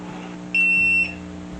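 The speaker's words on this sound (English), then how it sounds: "you hear it beeps to make sure that it is connected" A TEEHO TE007 smart fingerprint door lock gives a single electronic beep when connected, a short high tone lasting about half a second over a faint steady hum.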